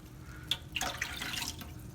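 Water poured from a plastic cup into a fish tank, a short run of light splashes and trickling drips close by, fairly quiet with no voices.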